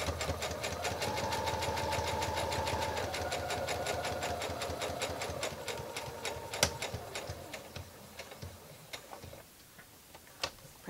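A sewing machine stitches a fabric sampler in a steady rapid ticking rhythm, loud and close, then slows and pauses for a corner turn with the needle down, leaving a few scattered clicks and taps.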